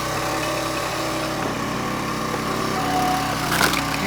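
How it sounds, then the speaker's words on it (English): A Split-Fire 3490 log splitter runs on firewood, a steady buzzing small engine drone with faint wood cracking and clunks toward the end, nearby and continuous. "You can process a lot of wood in a hurry."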